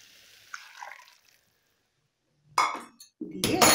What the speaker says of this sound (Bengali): এবার আমি এটার মধ্যে একটু গরম জল দিয়ে দেব